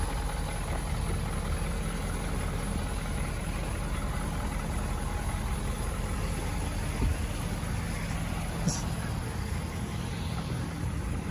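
A 2019 Ford F-250 Super Duty 4x4 with a 6.7 liter Powerstroke diesel idles steadily, a dense, constant low rumble held at even loudness throughout with no talk over it.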